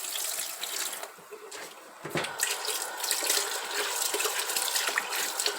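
Tap water runs into a sink while black-eyed peas are washed to rub off their skins: a steady, close flow with splashing that briefly dips and then continues, with no talking.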